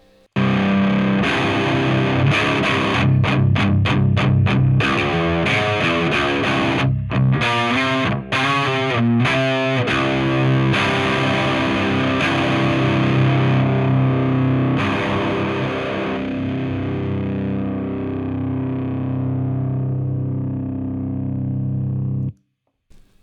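Heavily distorted electric guitar played through a Laney Pro Tube AOR amp with the bright boost engaged, loud chugging palm-muted riffs and sustained chords that ring out and fade to silence at the end.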